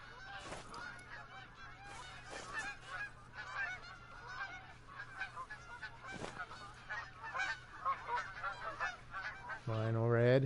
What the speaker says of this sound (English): Oh, they got geese somewhere.